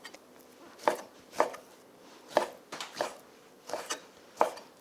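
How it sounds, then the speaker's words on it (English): A knife chopping beef short ribs into half-inch cubes on a cutting board, giving about eight crisp, close thunks at an uneven, unhurried pace with quiet gaps between cuts. "Now, I'm gonna cut these into pretty small pieces, about 1/2-inch cubes."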